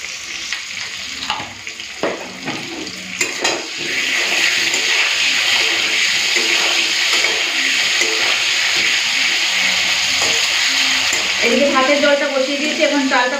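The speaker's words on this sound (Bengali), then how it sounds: "এদিকে আলু ভাজা হচ্ছে" Potatoes frying in oil in a pan, a loud continuous hiss and crackle that swells after the first few seconds and holds steady, with a voice speaking near the end.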